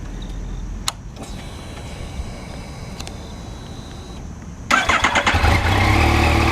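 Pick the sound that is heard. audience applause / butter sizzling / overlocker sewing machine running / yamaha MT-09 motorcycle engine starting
yamaha MT-09 motorcycle engine starting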